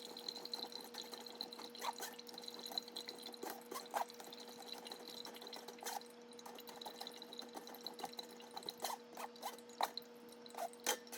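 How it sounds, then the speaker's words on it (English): Concord grape juice drains from mashed grapes through a strainer into a pot, a steady faint trickle with scattered drips and soft clinks, no voices. "get all of that liquid to drain into the pot below"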